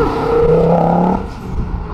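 A Ford Escort RS pulls away from the TRAX meet at Silverstone, its engine note loud and close, rising and climbing steadily before easing off slightly near the end.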